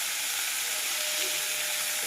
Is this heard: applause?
no